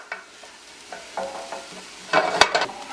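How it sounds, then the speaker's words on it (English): Fresh thyme frying in a pan for stovetop mango jerk shrimp, stirred with a utensil: soft sizzle broken by scraping strokes, and a louder burst of stirring near the end, no speech. "I'm just going to give that a quick little stir in here"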